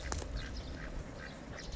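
White ducks quacking in a small flock at a backyard poultry enclosure, several overlapping quacks close by over a steady noisy background, with no talking.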